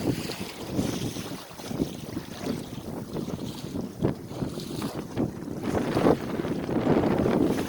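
A gust of wind rushes across a sailboat under way, roaring steadily against the microphone with water washing along the hull and building louder toward the end.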